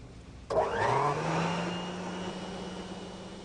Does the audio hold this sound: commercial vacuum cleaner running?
yes